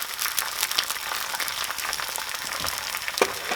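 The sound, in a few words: egg sizzling in frying pan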